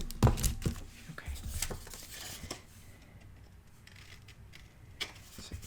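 Scissors trim the corners of paper for a handmade mini album, giving a few close crisp snips and rustles early on, then quieter handling sounds with faint talk.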